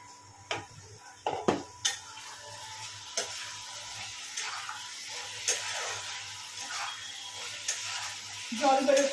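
Small pieces of meat being sautéed in a pot for Kolkata-style haleem, releasing their water: a low sizzle under repeated clicking knocks of a stirring spoon against the pot, with a louder scrape at the end.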